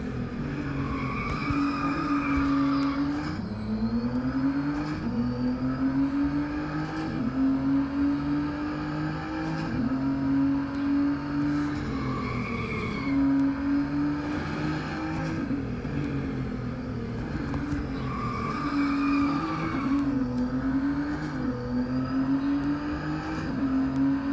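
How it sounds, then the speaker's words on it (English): A race car in the Real Racing 3 game roars through repeated gear changes and revs, engine pitch rising and falling in regular cycles with tire squeal and skidding while drifting, loud and continuous. "I think I can do a drift on this corner."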